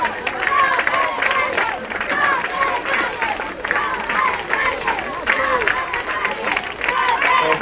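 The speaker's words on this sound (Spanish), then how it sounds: "Fuerte aplauso." Crowd applause and clapping for award winners at a beach race prize ceremony, sustained and lively, mixed with a background murmur of chatter and voices from the gathered people.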